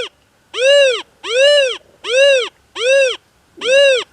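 Metal detector pinpoint tone: five loud, evenly spaced electronic tones, each swelling and fading in pitch as the coil passes over a target, with short gaps between them and nothing else heard.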